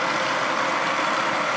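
A Searl effect generator, a rotating magnetic device, spins up to around 150–180 RPM with a steady, loud broadband whirring rumble throughout and no talking.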